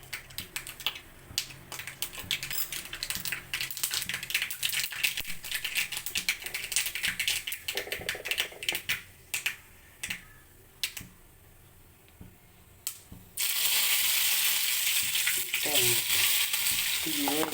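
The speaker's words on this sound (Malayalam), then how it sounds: "എണ്ണ ചൂടായിട്ടുണ്ട്. നമുക്ക് 2 മണിക്ക് അടുകിടാം. അടുക നല്ലോണം പൊട്ടണം." Mustard seeds crackling in hot oil for a papaya and lentil olathu curry, dense rapid pops close by that thin out and pause before a loud steady sizzle takes over at the end.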